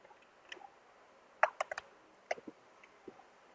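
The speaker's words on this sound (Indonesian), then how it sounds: "Saya juga mulai ngetik." A computer keyboard is tapped in irregular, quiet clusters of keystrokes with short pauses between them, close by and alone.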